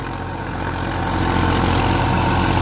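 A 42-horsepower Massey Ferguson 241 tractor engine pulling an 8-foot rotavator chugs steadily and loudly up close, a continuous low throbbing drone that strains slightly heavier toward the end.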